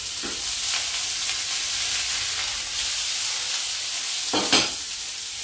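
Onion and leek sizzle and hiss steadily as they sauté in olive oil in a pan for a spinach side dish, with a few brief louder bursts of frying and stirring.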